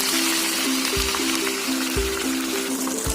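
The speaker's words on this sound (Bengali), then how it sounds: "1 বাটি মতো জল দিয়ে দেবেন।" Water pours steadily into a pan of Bengali masala chicken kosa curry, a continuous close rushing splash with faint rhythmic low knocks underneath and no talking.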